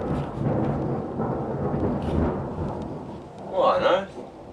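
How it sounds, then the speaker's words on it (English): A deep, rumbling roll of thunder spreads across the clip beneath steady rain, with a brighter burst near the end; someone speaks over it. "That's some thunder."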